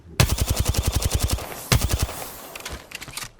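Rapid automatic gunfire in Apex Legends, a sustained burst of closely spaced shots, a pause, then a shorter burst and scattered distant shots trailing off; loud and close with no talk over it.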